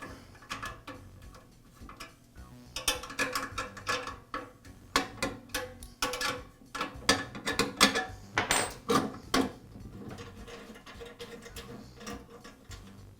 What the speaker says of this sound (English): And now I'll remove the second nut.